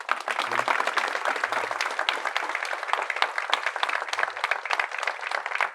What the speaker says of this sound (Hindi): जोर से बजा दो ताली.